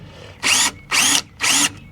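A power drill drives a 2-inch screw into wood in three short, even bursts of motor whine, each about a quarter second long, close and loud with brief pauses between them.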